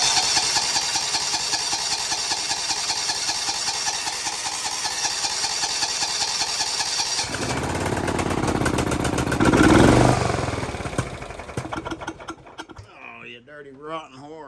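A John Deere SRX95 riding mower engine cranks with the choke on, then catches and runs at a steady, loud idle before tapering off, with someone talking nearby.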